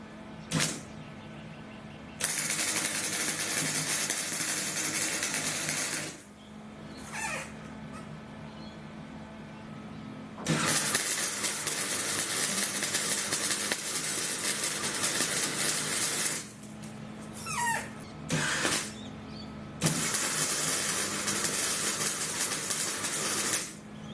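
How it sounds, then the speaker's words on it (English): Arc welding on a part of a 1995 Honda XL250 motorcycle: several bursts of steady crackling hiss lasting a few seconds each, separated by quiet pauses and small clinks. "I'm just going to get in and weld it right now"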